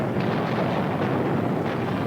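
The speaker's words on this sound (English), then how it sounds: "Berlin, once mighty metropolis of a proud nation, now crumbles under the merciless pounding of Russian artillery." Russian artillery shelling Berlin in 1945, a dense, continuous low rumble of distant booms and blasts merging into a steady roar throughout.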